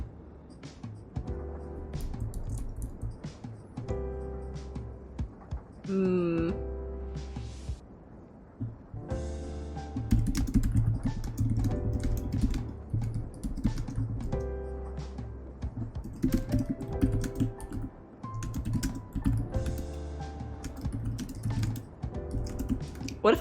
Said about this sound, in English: That's way louder than my keyboard on my laptop.